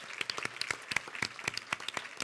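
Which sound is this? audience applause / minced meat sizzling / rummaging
audience applause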